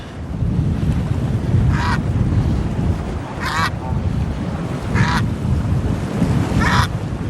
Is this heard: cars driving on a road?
no